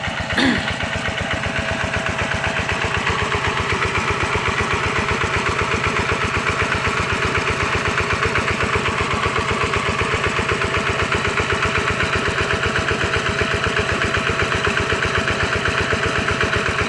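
An engine-driven water pump runs steadily to drain water for catching fish, a loud, continuous mid-pitched mechanical drone with rapid regular pulsing and no pauses throughout.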